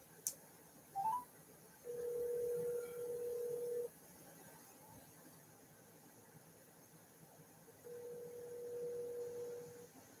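An outgoing phone call rings while waiting for someone to answer: a brief dial blip, then two long, steady ringback buzzes separated by a pause, heard fairly clearly over low background hiss.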